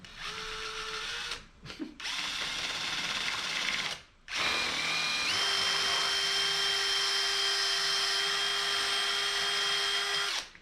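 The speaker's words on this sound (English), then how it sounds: "this is basically a milling machine" A milling machine cuts a metal bracket for a 1977 Datsun 620, a loud steady high whine of cutting that breaks off twice briefly, then resumes with a sustained pitched tone.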